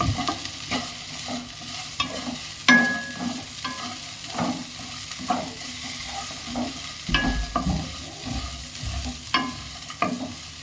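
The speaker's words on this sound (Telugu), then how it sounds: "ఈ అల్లము పచ్చివాసన పోయేంత వరకు ఫ్రై చేసుకోవాలి" Ginger frying in a pan for cashew upma gives a steady soft sizzle, with repeated scraping and stirring clicks from a spoon at an uneven rhythm, close by.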